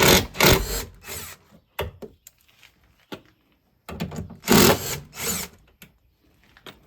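Power drill whirring in bursts while removing 10mm bolts from a tow mirror on a 2014-2018 Chevrolet Silverado or GMC Sierra, two long loud runs separated by short clicks and pauses.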